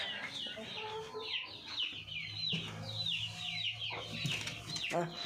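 A hen clucks repeatedly and rapidly before laying an egg, with bright chattering calls close by and other fowl sounding in the background of a chicken coop.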